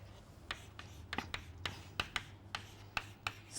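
A lecturer's pen or chalk taps and scratches on a board in quick, uneven strokes, close and fairly quiet, with no speech.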